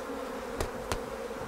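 Honeybees buzz at an open hive during an inspection, a steady low hum of many wings, with two brief soft taps partway through.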